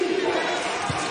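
Arena crowd at a women's college basketball game between Auburn and South Carolina, a short swell of roaring and cheering after a steal, dense and fairly loud with a single dull thump near the end.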